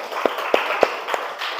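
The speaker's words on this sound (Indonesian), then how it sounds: "Tepuk tangan dulu untuk kelompok A." A few hand claps at a classroom session, four or five sharp hits spaced about every quarter second, sounding like a small group starting to applaud faintly over a hushed room tone.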